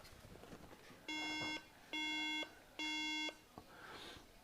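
A 2011 MacBook Air with a RAM fault gives three even, steady electronic beeps at startup, evenly spaced and clearly audible above a quiet room.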